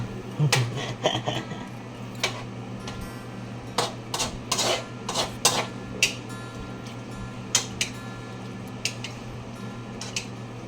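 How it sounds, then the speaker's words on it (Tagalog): Stirring food in a pot, with scattered clinks and scrapes of a utensil against the metal, some in quick clusters, against a low steady background hum. "Haluin natin."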